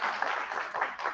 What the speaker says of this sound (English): Now you can clap because she did right.